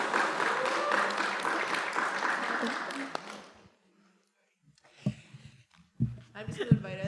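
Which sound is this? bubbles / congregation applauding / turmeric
congregation applauding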